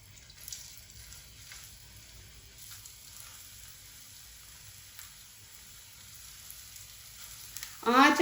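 Aloo palak tikki, potato and spinach patties, fry in a little oil. The scene stays mostly quiet with faint background noise until a loud, close sizzle bursts up right at the end.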